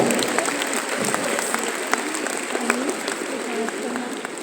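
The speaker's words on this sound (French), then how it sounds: "ouvrez les yeux et on s'applaudit, mesdames, messieurs" Audience applause at a Messmer hypnosis show in the Zénith de Rouen, a steady crowd clapping throughout with a few sharper claps and talk underneath.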